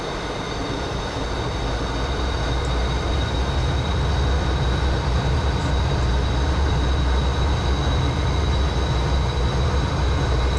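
Jet aircraft engine at full throttle on the takeoff roll, a steady, loud, unbroken roar with a high whine running through it, no voices.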